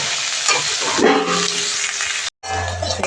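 Onions fry lightly in oil in a pan for veg patties, giving a close, continuous sizzle broken by scraping stirs, a brief silent cut near the end, then the sizzle resumes.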